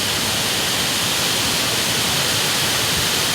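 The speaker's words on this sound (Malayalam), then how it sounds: "ആ നല്ല വെള്ളച്ചാട്ടം" A waterfall on a river near a dam in Kerala roars as a dense, steady rush of falling water, loud and unbroken throughout with no voices.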